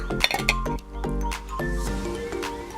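A spoon clinks against a pot of boiled jackfruit seeds, with a quick cluster of bright metallic taps followed by steadier ringing clinks, close and fairly loud.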